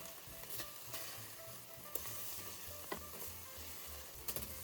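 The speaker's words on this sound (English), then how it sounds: "press firmly down on each patty, flattening it. Then flip each burger." Miso burger patties frying in a covered pan: a soft, even sizzle with occasional small pops and clicks, close and fairly quiet, with no voices.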